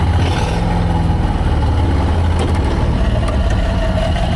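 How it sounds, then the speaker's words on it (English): Lawn mower V-twin engine fitted with a turbocharger in a VW Beetle, a deep, steady throbbing rumble from inside the car while driving through the country, loud and continuous. "the V-twin Beetle that almost sounds like a V8"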